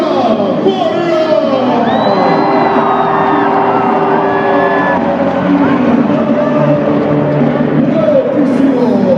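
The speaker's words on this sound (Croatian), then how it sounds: "Pozdravimo svoga velikim pljeskom" A handball arena crowd cheers and whoops as a player is introduced at a Croatia versus Slovenia match, a loud, dense roar of many voices with shrill shouts rising above it throughout.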